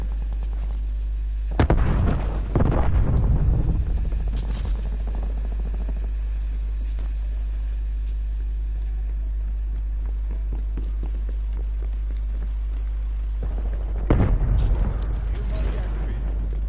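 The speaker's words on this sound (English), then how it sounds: "Throwing grenade." Grenade explosions in the video game Call of Duty Black Ops Cold War: two loud, deep blasts with rumbling tails, set far apart with a long quiet stretch between them.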